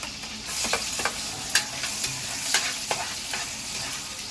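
Garlic sautéing in hot oil for adobong labong, a soft continuous sizzle broken by a few sharp scrapes and taps of a spatula stirring in the pan, close and with no talking.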